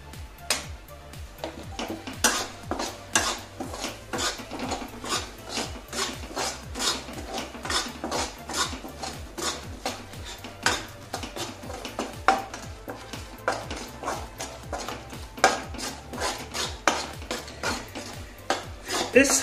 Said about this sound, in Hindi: आप बेसन को थोड़ा ब्राउन होने तक ऐसे से चला लें